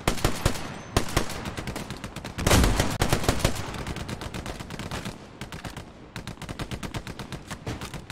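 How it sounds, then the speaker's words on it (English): Dense crossfire in the World War II shooter Hell Let Loose: rapid bursts of rifle and machine-gun fire from several directions, some sharp and close, others more distant, with a heavier blast-like volley partway through and no speech. "There's so much crossfire, like, some people are shooting this way, some people are shooting that way."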